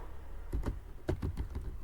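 Computer keyboard typing, quiet and close: a short pause, then a quick burst of several key clacks and taps at an uneven rhythm.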